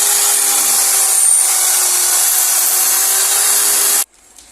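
A power drill boring a hole for a plastic anchor and wood screw during electrical wiring of a three-gang switch, a loud steady whine running for about four seconds and then stopping abruptly.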